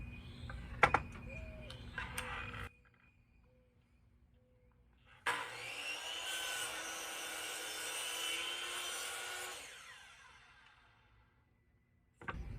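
A power saw cutting wooden boards for flower boxes: brief clatter and handling at first, then a loud sustained whine through the wood for several seconds that winds down before a final knock.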